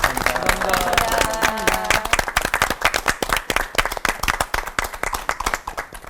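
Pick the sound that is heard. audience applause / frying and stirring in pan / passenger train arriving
audience applause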